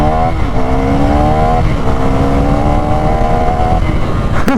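A 2024 Husqvarna Svartpilen 401 motorcycle with a six-speed manual gearbox pulls away in first gear on a wide road, its engine note climbing steadily and loud and close throughout.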